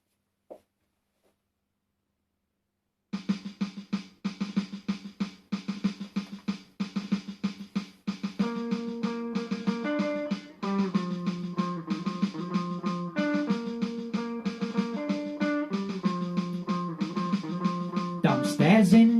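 Drums played in a lockdown gig, steady rapid hits starting after a short silence, joined midway by sustained melodic tones, loud and close.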